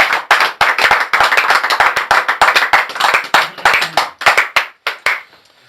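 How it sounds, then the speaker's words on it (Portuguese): Church congregation claps together in praise of Jesus, a loud, close burst of many hands with a rhythmic, quickening pattern that thins out and stops near the end. "Você pode dar um aplauso ao Senhor Jesus?"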